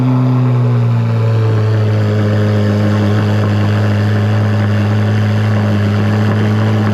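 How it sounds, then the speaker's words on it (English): A Chevrolet Corvette C8 Z06 with its catalytic converters deleted roars through a cold start, holding a loud, steady, deep droning high idle close by for several seconds. "So let's do cold start."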